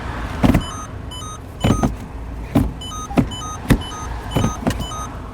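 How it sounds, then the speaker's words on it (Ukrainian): A series of short mechanical clicks and clunks close by from the automatic gear selector of a 2017 Peugeot 308 SW 1.6 HDi, several spaced irregularly, with faint electronic beeps in between, over a quiet cabin hum. "І зверніть увагу, ще як переключається, як перемикає селектор, з яким звуком."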